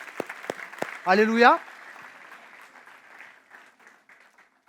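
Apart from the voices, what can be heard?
congregation applauding in church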